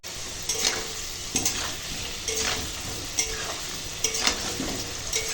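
Potatoes fry in mustard oil in a wok, giving a continuous close sizzle with regular scraping stir strokes roughly every second.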